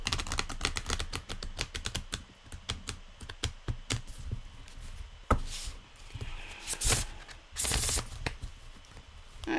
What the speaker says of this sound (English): I've got to say one more and then shuffle.